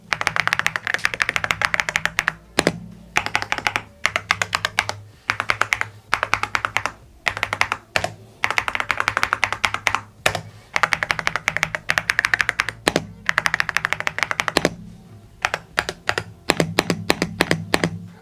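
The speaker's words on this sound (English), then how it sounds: "I like the sound of the keys. It's got that thonk that you guys are all looking for, of course, in a gaming keyboard." Yunzii C98 full-size mechanical keyboard typed on steadily at close range, dense bursts of thocky keystrokes with short pauses between runs, spacebar thumps standing out, no voices.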